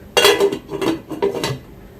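Lid set onto a pot of diet chicken soup, a few close metallic clanks and rattles in quick succession, then quiet.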